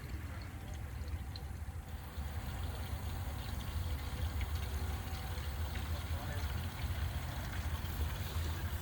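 A small electric fuel pump fills the fuel tank of a 1967 Checker Marathon during a Vortec 4200 engine swap, heard as a steady low hum with trickling fuel flow running continuously, while voices talk faintly in the background.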